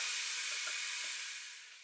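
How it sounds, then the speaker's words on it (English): Curry paste sizzles and fries in a pan over high heat as it is stirred, giving a steady bright hiss that fades slightly toward the end, with no voices. "you need to start stirring and frying it over a fairly high heat"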